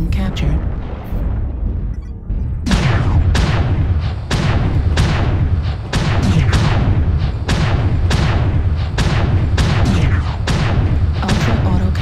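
Ultra autocannon fire from an UrbanMech in MechWarrior, a rapid series of about a dozen heavy booming shots, each trailing off, loud and close with a voice over the barrage.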